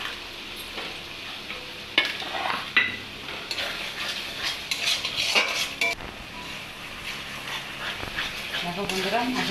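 Spices stirred and sizzling in hot oil in a home kitchen pan for a paneer and pointed gourd curry, with steady frying hiss, scraping spatula strokes and occasional clinks, while a person talks throughout.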